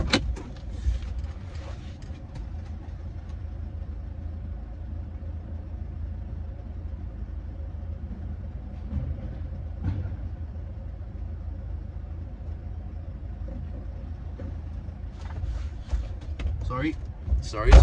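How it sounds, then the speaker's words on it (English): A car idles with a steady low engine rumble while being parked, with a few faint clicks and a door-like thump near the end; no talking. "I'm parking the car."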